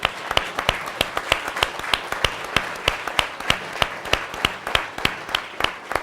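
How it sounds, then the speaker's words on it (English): An audience at a lecture on LBJ's presidency claps in sparse, distinct individual claps rather than a dense roar, moderately loud and continuing steadily throughout. "all of you again, and get a big round of applause"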